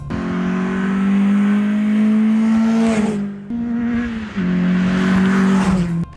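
A Peugeot 206 GTI from the early 2000s with 77,000 miles drives past close and loud, its engine note steady and rising, dipping briefly twice as the revs drop at gear changes before climbing again.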